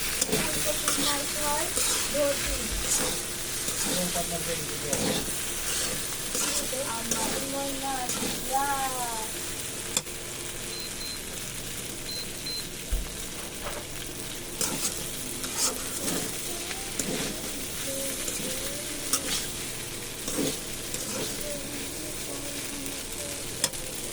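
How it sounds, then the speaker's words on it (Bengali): Pasta tossed with sauce in a frying pan, sizzling steadily while a utensil scrapes and stirs in repeated strokes, with sharp knocks against the pan now and then and faint voices and background noise underneath. "আমরা সস দিয়ে এবার নেড়ে চেড়ে ভালো করে মিক্স করে নেব সসটা।"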